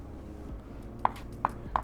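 A knife cuts through vegetables on a board, trimming just the fine ends before roasting alongside grilled pork chops; three sharp, close chops land about half a second apart over a quiet kitchen background.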